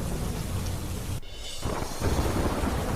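Heavy monsoon downpour in Dhoraji, Rajkot district, Gujarat: a steady, dense roar of rain with deep rumbling beneath, briefly dipping in the middle before returning at full, continuous strength.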